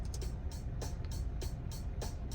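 A quiet drum beat programmed in MuseScore notation software plays a steady pattern of crisp hi-hat ticks with low kick thumps and snare hits.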